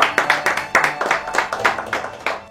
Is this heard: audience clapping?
yes